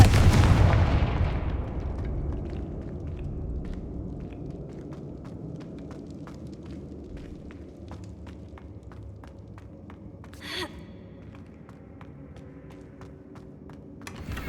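The Confringo fire spell in the video game Hogwarts Legacy opens with a loud booming blast that decays into a low rumble, followed by faint footsteps and a brief later thud.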